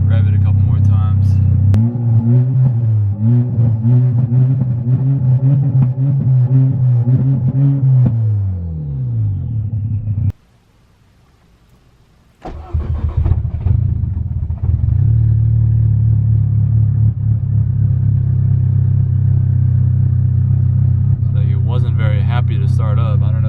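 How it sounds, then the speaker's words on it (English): Revving of a VW Golf R MK6 with a big turbo, a clutch slip and P0016 fault, up close: the engine climbs and falls in loud rising revs, cuts out briefly, then restarts and settles into a steady drone, with talk at times. "I can see what happens when I just rev it a couple more times."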